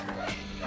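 Dogs bark outside a house at night, a short burst of yapping that sounds fairly near and is partly mixed with faint background noise.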